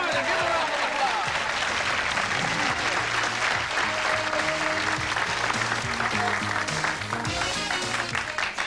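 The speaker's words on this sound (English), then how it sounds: "give her a round of applause" Sustained applause from a talk-show studio audience fills the whole stretch, steady and fairly loud, with voices and background music underneath.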